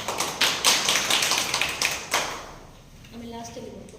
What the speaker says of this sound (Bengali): তো জোরে হাত তালি হোক।